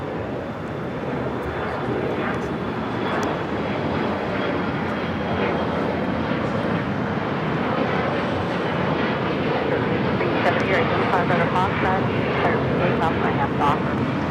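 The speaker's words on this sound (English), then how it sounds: "2014 taking off to Las Vegas on the E175 in the Horizon Retro livery" Alaska Horizon Embraer E175 jet in Horizon Retro livery taking off from Los Angeles LAX, bound for Las Vegas; a steady, loud broadband engine roar holds throughout with no break, and faint speech sits underneath.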